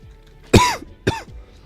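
Two short, sharp coughs close up, about half a second apart, each ending in a throaty rasp.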